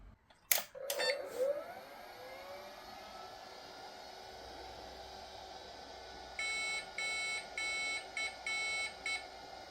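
A Philips P2230 286 computer powering on: a loud click and brief rattle of startup, a steady fan and drive hum, then a series of short, evenly spaced electronic beeps repeating near the end.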